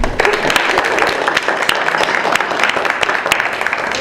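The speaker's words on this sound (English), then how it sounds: "round of applause for Mr. Kendall" A room of students applauding Mr. Kendall at a jazz clinic at the 2014 Newport Jazz Festival, close, brisk and uneven clapping throughout.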